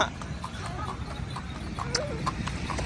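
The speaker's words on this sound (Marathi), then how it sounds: "घोडा सोडून द्या जाऊ द्या पळू द्या जरा घोडा थोडा पळू द्या" A horse clip-clopping along at a steady trot, its hoofbeats sharp and fairly close over a low outdoor rumble, with a faint voice briefly in the background.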